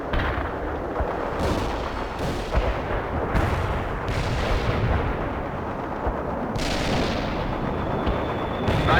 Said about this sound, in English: Incoming fire. Watch out.